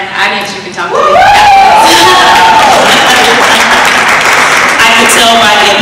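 Audience applause at a Toastmasters District 30 evaluation contest, loud sustained clapping from a crowd with some cheering and chuckles mixed in, preceded by a moment of voices.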